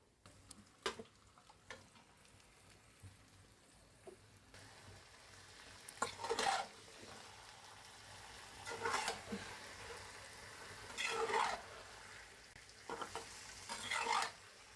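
Marinated beef goes into a pan of fried onions, giving a continuous close sizzle broken by repeated scraping stirs about every two to three seconds.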